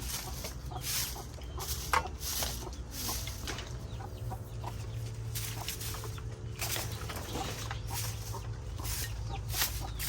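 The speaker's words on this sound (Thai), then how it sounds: "ไก่ก็ส่งเสียงเจียวจ้าไปหมดครับ" Chickens cluck and squawk continuously in an agitated chorus, with steady background noise and some rustling.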